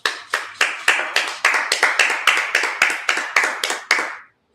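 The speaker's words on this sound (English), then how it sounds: "let's clap it up" A congregation at a Sabbath service clapping in unison, about a dozen loud, sharp, evenly spaced claps at a steady rhythm close by, ending abruptly in silence.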